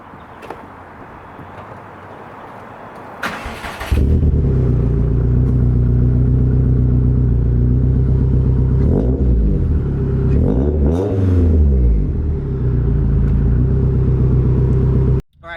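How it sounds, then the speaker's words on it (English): A built 431 hp Subaru STI engine cranks and starts after a quiet moment, then settles into a loud, steady boxer rumble close by, with a couple of sharp revs rising and falling near the end. "you definitely get that Subaru rumble"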